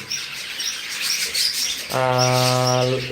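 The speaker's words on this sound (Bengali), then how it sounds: "ওইখানে আপনার লাভবার্ড আছে আর এইখানে চারটে কোকাটেল আছে" Pet lovebirds and cockatiels in an aviary chirp in a string of short, bright tweets, then one bird gives a loud, sustained harmonic call, close by.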